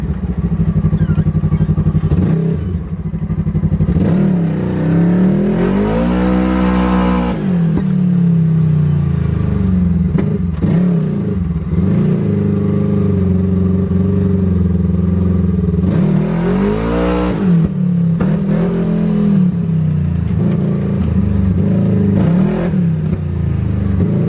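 A Kawasaki KRX side-by-side with a full exhaust and tune, revving hard and spinning around: loud, close engine roaring in repeated rising and falling surges, with clattering and sharp throttle blips between pulls, no talking.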